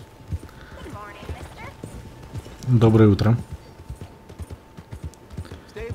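A large horse's hooves clip-clop in a steady, close rhythm in the Red Dead Redemption 2 video game, while a voice speaks briefly in the middle.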